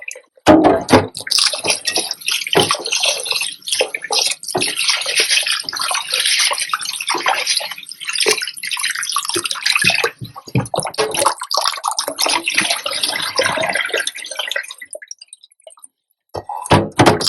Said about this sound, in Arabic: نفرك باليدين فرك خفيف هيك المي. بنكب المي عنه أول مرة ونعيد الكرة مرتين